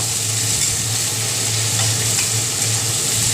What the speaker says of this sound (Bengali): সেই পেঁয়াজটা আমি দিয়ে দিলাম ভালো করে এটা ভেজে নিব